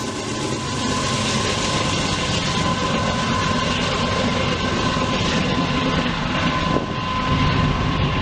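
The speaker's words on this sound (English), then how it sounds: "Bringing up the rear of this grain train is an AC 4400 CW, numbered in the 6300 series." A long grain train of hoppers rumbles steadily past at close range, with an AC4400CW locomotive in the 6300 series at the rear, a sustained broadband roar of wheels and engine with a faint tonal hum throughout.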